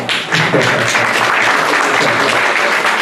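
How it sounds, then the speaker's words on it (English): Guests at a funeral gathering applaud the night's DJ, a burst of clapping that swells quickly after a brief quiet start and then stays loud and dense, with a murmur of crowd underneath. "Please give him a round of applause."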